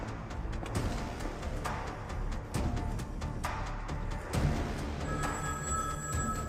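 A telephone rings during a call to the Indian High Commission in a dramatic film scene, with repeated bell-like trills over a dense, busy backdrop of score and ambience.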